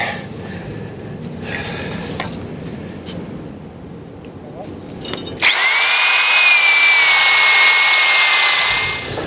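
A power drill, not on hammer setting, whirs loudly for a few seconds drilling through a boat rubbing strip, starting abruptly after quieter handling noises and holding a steady high-pitched whine.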